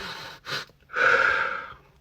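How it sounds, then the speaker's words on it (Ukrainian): Quick, sharp inhalations through the nose during a stress-relief breathing exercise: two short sniffing bursts followed by a longer, stronger intake that slowly fades, close and clear with no talking. "оці вдохи швидкі"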